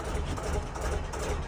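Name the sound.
Gardner 2LW narrowboat diesel engine running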